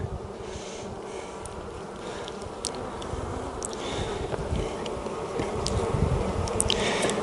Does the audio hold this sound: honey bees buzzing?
yes